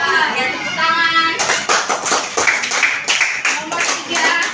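A group of primary school children in a classroom clap together in quick rhythmic bursts, with young voices calling out over the clapping in a lively room.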